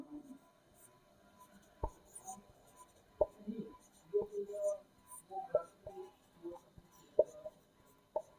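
Someone writes on a board during a geography lesson on latitude and longitude, with a series of sharp taps and short scratchy strokes spread irregularly across the clip, close and fairly quiet.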